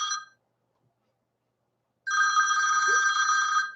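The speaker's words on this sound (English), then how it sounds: "My phone's freaking out." A mobile phone rings with a bright electronic tone: a short burst, a pause of nearly two seconds, then a sustained ring running to the end. No talking is heard.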